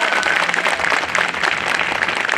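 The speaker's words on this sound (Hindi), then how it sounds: "जोरदार ताली बार काउंसिल के लिए" An audience at a Bar Council of Delhi enrolment meeting applauds loudly and steadily, a dense burst of clapping from a crowd filling the room.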